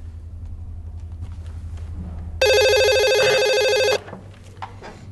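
Telephone ringing once in a single loud electronic trill burst over a low rumbling background hum, placing a call to the 155 police line.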